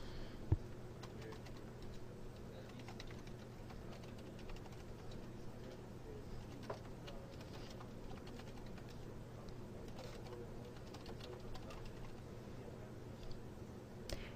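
Quiet, uneven tapping of keys on a computer keyboard as entries are typed into spreadsheet cells, soft clicks in irregular bursts over a low hum, with no voices.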